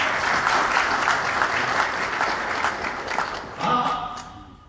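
Audience applause at a spiritual gathering, steady close clapping that thins out near the end as a voice briefly comes through.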